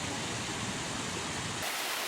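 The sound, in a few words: artificial waterfall flowing in a greenhouse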